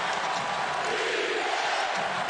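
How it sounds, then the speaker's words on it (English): A basketball arena crowd roars in a broad, sustained wash of cheering, loud and even throughout with no clear single voices. "And this crowd has come alive."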